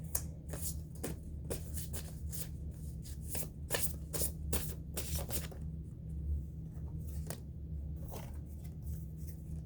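Tarot cards being shuffled by hand give off a run of quick, crisp riffling flicks and slaps, close and soft, with an irregular rhythm and a brief lull partway through.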